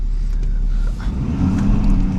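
A Ford F250 Megaraptor Lariat Ultimate pickup truck drives and accelerates while merging into traffic, heard from inside the cab as a rising engine rumble over road noise, close and fairly loud.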